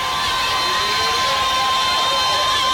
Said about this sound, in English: Crowd loud here at Christus Trinity Mother Francis Rose Stadium.